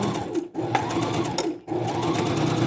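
A sewing machine stitches fabric for a round scrunchie fabric bin and reverses for a back stitch, a rapid close whirring run broken by two brief pauses as the stitching direction changes, with no talking.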